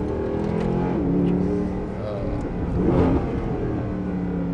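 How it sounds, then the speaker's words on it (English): A Mercedes SLS AMG Black Series engine auto-blipping on downshifts: a continuous mid-range engine drone with rising and falling revs and a couple of brief swells, close and fairly loud. "it makes a nice burble back through the transmission. That is auto blipping."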